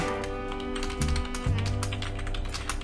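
Steady typing on a computer keyboard while writing text in Notepad, with rapid close key clicks and a few heavier thumps from the space or enter key.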